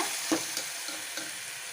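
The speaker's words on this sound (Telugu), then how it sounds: "పచ్చిమిర్చి వేసి పేస్ట్ వేసిన తర్వాత ఇది పచ్చివాసన పోయేంత వరకు ఫ్రై చేయాలి" Green chillies and paste fry quietly in a pan for a sorakaya curry, a steady soft sizzle broken by a few light stirring clicks, with no voices.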